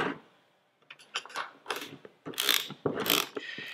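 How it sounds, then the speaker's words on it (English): A torque wrench tightens bolts on a mag drive centrifugal pump, giving a series of close ratcheting clicks and metallic clunks in short, irregular bursts. "use the dynamometric wrench for the correct strength to tighten the bolts"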